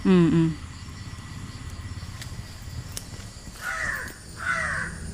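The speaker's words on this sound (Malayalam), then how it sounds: "കാക്ക വിരുന്ന് വിളിക്കണ്ടല്ല വിരുന്ന് വിളിക്കേ കാക്കയ്ക്ക് വല്ല വിശന്നിട്ടാ" Two harsh crow caws ring out in the second half, separated by a short pause, over a quiet outdoor background.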